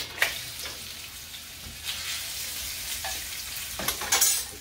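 Sliced onion drops into hot oil for an escabeche, giving a steady low sizzle with a few sharper crackling bursts and stirring scrapes, close by and moderately quiet with no talking.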